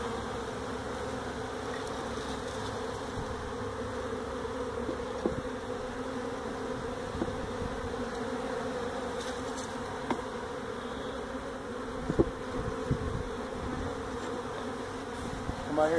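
A steady, dense hum of many honey bees buzzing together inside a hive in a tractor tire, continuous and close, with a few brief louder thumps and rustles.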